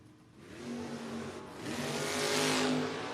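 A drag-racing Roadster engine revs hard and then launches, loud and close, its roar building and rising in pitch at a No-Box 660 Shootout.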